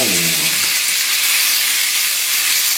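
Beef and onions stir-frying over high heat in a pan give a steady, close sizzling hiss that runs unbroken and alone throughout.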